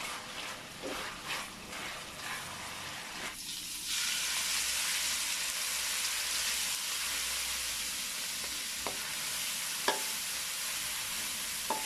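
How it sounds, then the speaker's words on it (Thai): Thai shrimp paste (kapi) frying in a pan for rice mixed with shrimp paste, a steady broad sizzle that swells loud after a few seconds of quieter stirring, with a few sharp pops and clicks near the end. "ทอดกะปิให้หอมนะคะ"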